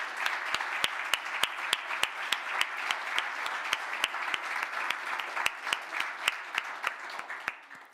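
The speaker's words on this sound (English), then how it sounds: "Let's give these competitors the big round of applause they deserve" An award ceremony audience applauds the competitors, a steady, even clapping crowd with sharp, regularly spaced claps standing out near by, fading slightly toward the end.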